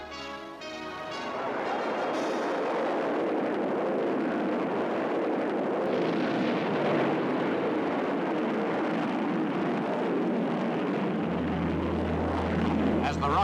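A Redstone rocket launches and climbs, a dense, steady roaring rumble that swells and holds loud and continuous, with a low hum appearing near the end.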